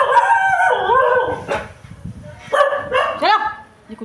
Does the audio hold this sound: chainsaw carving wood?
no